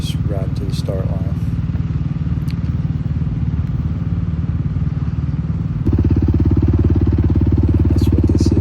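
Quad four-wheeler engine riding to a race start line, a steady loud droning hum that deepens and grows stronger partway through, with a brief voice early on.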